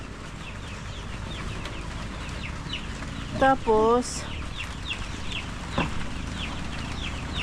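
Small young farm chickens cluck and peep softly throughout, with a brief spoken word and a short burst of louder calls partway through, all over a steady low background.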